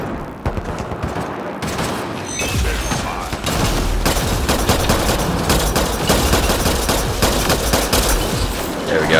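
Sustained, dense gunfire from the Mass Effect Andromeda video game, with rapid overlapping shots and bursts pounding loudly and continuously, briefly thinner at the start before the barrage fills in.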